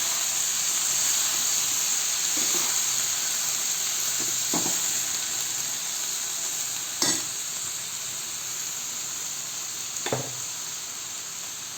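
Chopped tomatoes with a squeeze of lemon fry in a pan, giving a steady bright sizzle throughout with a few soft scrapes of stirring, close and even in level.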